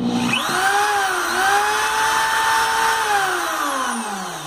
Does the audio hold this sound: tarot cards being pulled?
no